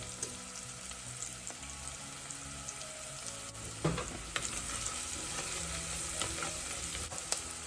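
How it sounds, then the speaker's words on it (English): Food frying in a pan with salt and pepper is stirred around, giving a steady soft sizzle broken by occasional scraping clicks of the utensil, fairly faint and with no voices. "Stir it around."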